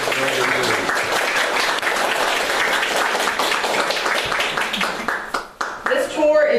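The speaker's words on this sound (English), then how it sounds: "Let's give them a round of applause" A crowd applauds steadily with dense clapping that fades out near the end, a voice speaking briefly over it.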